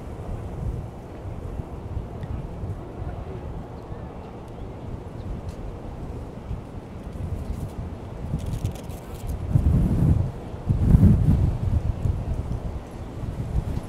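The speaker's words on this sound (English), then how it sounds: "For some reason, Hudson here is always windy." Strong wind gusts by the Hudson River in Manhattan, a broad rumbling buffet across the microphone that swells louder toward the end, with faint city sounds underneath.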